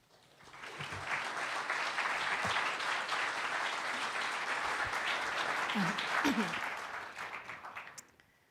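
An audience claps warmly to welcome the president of the Trinity Forum at an evening conversation event. The applause swells quickly, holds steady for several seconds, then fades out.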